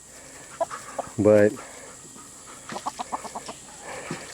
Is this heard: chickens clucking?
yes